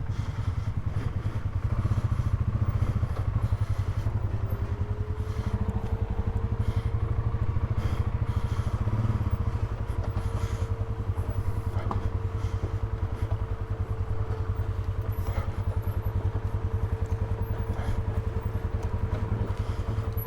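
A motorcycle rolls slowly down a washed-out rut in Pleasant Canyon, Panamint Valley, with one wheel in the rut. A low, steady engine rumble is heard close up, with light clatter over the rough ground.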